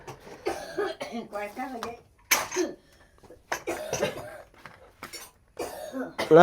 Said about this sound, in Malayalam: നല്ല ചുമ ചുമക്കുണ്ട് വല്യമ്മ